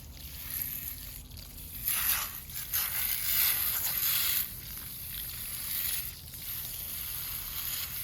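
Water splashes and rinses over a foam air filter outdoors in a hot Florida setting, a steady wash of hiss and sloshing that swells in a few louder bursts, with no talking.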